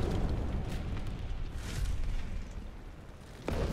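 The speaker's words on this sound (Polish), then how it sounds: "W magazynie amunicji mi wybuch zrobili." Tank ammunition rack explosion in War Thunder, a deep rumbling boom with a sustained roar that swells and fades, closing on a sharper burst.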